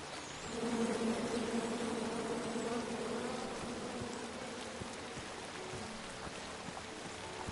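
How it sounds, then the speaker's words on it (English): A swarm of bees buzzes in the King's Quest adventure game, a steady droning hum that swells in and continues at moderate level throughout, alone without talk. "Come at me, bees!"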